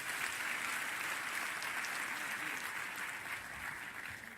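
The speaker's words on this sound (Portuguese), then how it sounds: "Queria que você recebesse ele com aplauso." A church congregation applauds steadily for a visiting pastor, dense sustained clapping filling the room at a fairly low level, tapering slightly toward the end.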